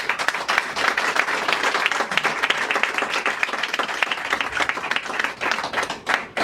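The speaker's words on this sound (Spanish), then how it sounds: "Un aplauso al Señor Jesucristo" A church congregation applauds in praise of Jesus Christ during a Good Friday sermon, steady full-room clapping from many hands throughout, moderately loud with little talk.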